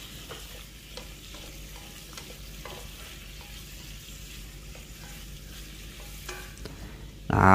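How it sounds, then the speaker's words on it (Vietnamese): Pineapple and tomato being stir-fried for a Thai beef hotpot: a steady, soft sizzle with scattered light scrapes and stirs in the pan, close and alone, ending in a sudden louder clatter. "Rồi mình cho khóm vào luôn để mình xào."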